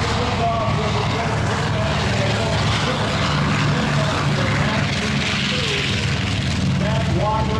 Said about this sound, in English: The sound of the powerful right engine.